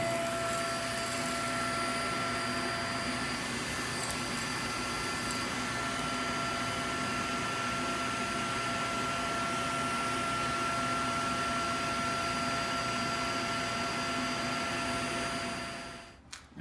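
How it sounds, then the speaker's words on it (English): A vacuum cleaner sucking out a port on a GMG Jim Bowie pellet grill runs continuously with a steady whine and hum for about sixteen seconds, then shuts off and winds down. "we're gonna try and vacuum out that port and see what happens"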